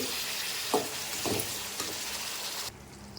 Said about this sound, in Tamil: நல்லா வதங்கட்டும் தக்காளி